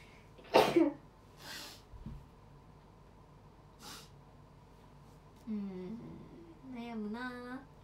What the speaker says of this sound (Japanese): くしゃみ出そう。